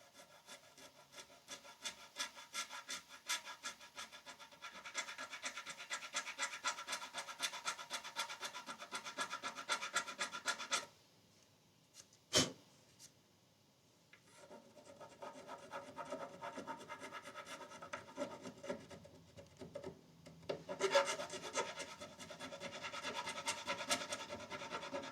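A round file rasps at a small burr on the edge of a guitar cap, making steady rapid scraping strokes close by that pause briefly, are broken by a single sharp knock, then start again.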